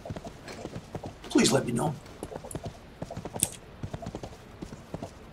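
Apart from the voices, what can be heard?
horse hooves clip-clopping in video game Rift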